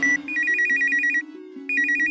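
A cartoon telephone rings during a call with a bright electronic tone that trills in rapid repeated pulses, pauses briefly, then starts ringing again, loud and close with no talk.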